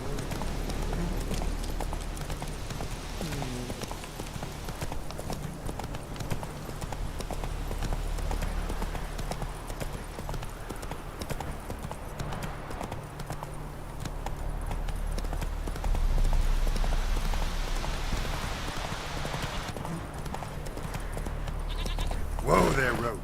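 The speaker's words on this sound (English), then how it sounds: "Whoa there, Roach." A horse gallops in The Witcher 3, its hooves clip-clopping in a steady, continuous rhythm throughout, with game ambience and a voice talking over it at times.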